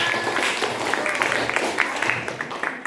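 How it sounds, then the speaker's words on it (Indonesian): Classroom applause as students in a physics lesson clap for their group work, a soft steady patter of many hands with a few sharper claps, filling the room without any talk on top. "Tepuk tangan buat kita semua."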